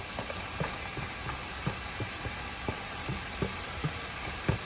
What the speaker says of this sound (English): So I've got some ground turkey going in. I've got my chopped onions going in.